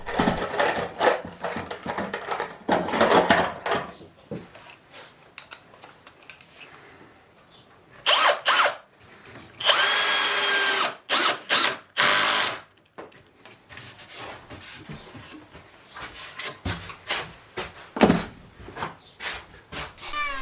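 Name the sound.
drill driving screws into angle brackets on wooden sign frame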